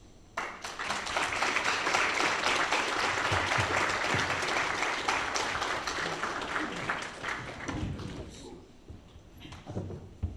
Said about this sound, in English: Let's get a round of applause one more time, please, for Dr. Drazen.